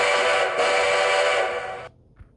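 A loud, sustained cartoon train whistle from a toy-like engine blows close by for nearly two seconds, then cuts off abruptly, leaving near silence.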